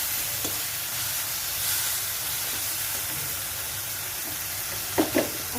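Okra frying in a pan with chopped tomato added, giving a steady broadband sizzle and hiss with a few brief stirring clatters near the end, no voices.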